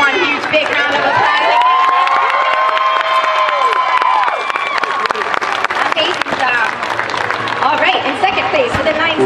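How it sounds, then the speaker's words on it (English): A gymnastics competition crowd cheers, whoops and applauds for a vault winner, with loud, continuous clapping, high children's shouts and excited voices throughout. "Let's give her one huge big round of applause."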